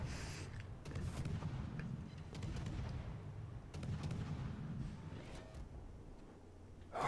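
Gunshots in a video game, a quiet sequence of scattered shots and low rumbling booms at a distance, with no talking.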